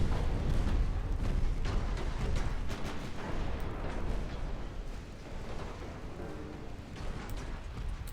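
Battleship secondary guns fire in the naval warfare game Ultimate Admiral Dreadnoughts, a continuous rumbling barrage of distant booms and rapid thuds layered into a dense low roar.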